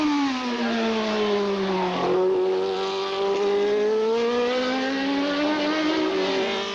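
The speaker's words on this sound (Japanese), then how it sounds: "あのエンジンの具合はどんな感じですか。 音聞いてて良さそうですか。" Formula 2 race car engine at Suzuka in 1983, a steady loud high-pitched drone with a slight dip and rise in pitch as it holds speed, continuous and close without voices.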